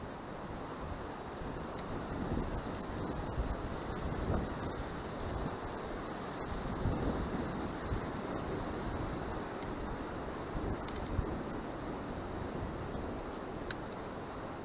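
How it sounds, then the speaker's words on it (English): Strong wind sweeps across an exposed ridge line during a canvas tent setup, a steady broadband roar and rumble buffeting the microphone throughout with no talking. "as you guys can hear, the wind up on top of this ridge line where my property's at is, it's going at a pretty good clip"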